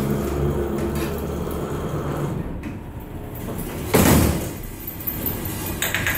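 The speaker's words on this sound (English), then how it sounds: "And what we'll do is close door." A heavy freight elevator door at a shopping mall in Houston slides and bangs shut with a broad rumbling thud near the middle, set against steady mechanical room noise.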